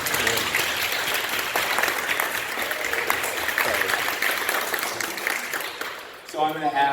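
Sustained audience applause after a poetry reading fills the room with dense clapping for several seconds before fading, and a speaker's voice follows.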